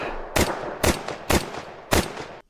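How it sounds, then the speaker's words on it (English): Four evenly spaced gunshots in Counter-Strike 2, each a sharp loud crack followed by a short echoing tail, fired about half a second apart with nothing else heard. "Listen to this same gunshot,"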